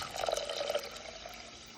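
Water pours steadily into a rice pot for about two seconds, a close, continuous splashing fill with no talking.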